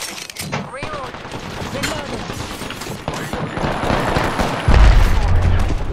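Rapid gunfire bursts from a battle royale shooter game, dense and continuous across the whole stretch, with a heavier boom near the end and a voice talking over it.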